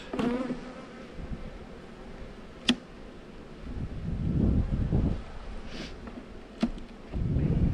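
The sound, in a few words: bees buzzing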